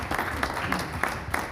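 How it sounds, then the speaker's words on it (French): Brief rhythmic applause from an audience at a school event, with several distinct claps standing out in a loose pulse over a soft crowd wash. "Ça s'applaudit."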